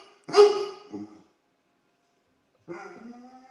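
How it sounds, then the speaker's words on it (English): A dog barks twice close by, one sharp loud bark followed by a shorter one, then after a pause a whiny, softer bark. "hold on. My dog is barking."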